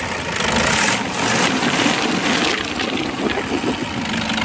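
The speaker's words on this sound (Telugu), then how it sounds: "సింగిల్ సెల్ఫ్లో అయితే కార్ స్టార్ట్ అవుతుంది" A 2012–2013 Toyota Innova 2.5 diesel engine running at a steady idle, with a continuous close rumble and a broad, even hiss throughout, no breaks or revving.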